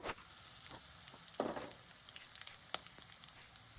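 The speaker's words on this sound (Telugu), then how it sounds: "ఇప్పుడు మూత పెట్టి కొద్దిసేపు వేయించుకుందాం." Chicken frying in a covered pan on a stove over a medium flame, a soft steady sizzle with faint pops and one brief louder spatter, quiet and close.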